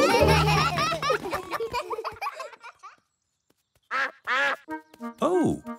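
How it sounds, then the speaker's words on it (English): Quacking from Mrs. Duck, a cartoon duck in Peppa Pig, comes as several quick nasal quacks near the end. Before it, childlike giggling and chatter, then a short silence. "Oh, it is Mrs. Duck."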